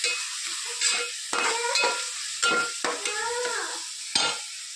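Vegetables fried in a pan for medu vada and sambar cooking, with radish in the mix, heard as close, loud scraping stirs in repeated strokes over a continuous sizzle.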